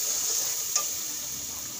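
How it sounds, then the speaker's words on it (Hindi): Masala with red chilli powder frying in a pan over low heat, a steady close hiss of sizzling oil with a brief scrape of stirring partway through, no voices. "थोड़ी सी आँच पे कम करते हुए हम इस मसाले को अच्छी तरह भून"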